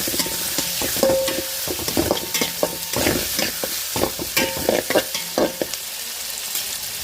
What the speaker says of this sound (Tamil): வெங்காயம் நல்லா வதங்கிடுச்சு, அது கூட தக்காளி சேர்த்துக்கலாம்.